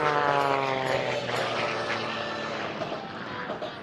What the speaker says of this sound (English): He's going to dive that airplane back down to show center